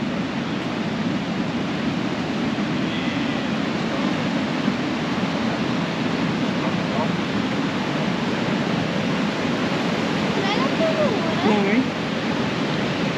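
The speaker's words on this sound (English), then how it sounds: "the water is so flowing that hard, you can't cross it" A strongly flowing river, too fast and hard to cross, on the Gibb River Road in Australia, roars as a steady, loud, broadband rush that fills the whole stretch without let-up.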